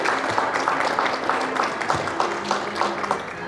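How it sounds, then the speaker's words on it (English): An audience at a university anniversary program gives a round of applause for student musicians from a school of music, with dense, steady clapping filling the room at moderate volume. "please give a round of applause to our student musicians from the School of Music"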